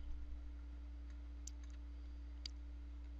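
Computer mouse on a Windows Vista desktop, clicking while the taskbar is dragged: a couple of faint, sharp clicks about a second apart over a low steady hum.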